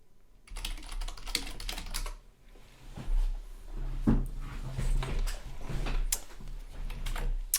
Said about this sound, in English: Smash that keyboard.